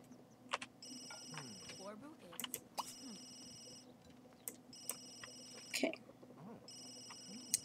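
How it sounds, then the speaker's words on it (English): In The Sims 3, a phone rings with repeated bursts of a bright electronic ringtone, over soft game clicks and ambience, while a person talks over it. "Whose phone is going off?"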